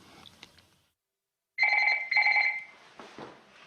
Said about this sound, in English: Another phone call came through from base camp